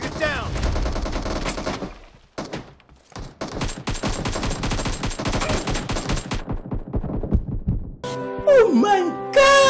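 Video game gunfire in rapid automatic bursts and single loud shots, dense and close, with a short gap partway through, followed by excited voices at the end.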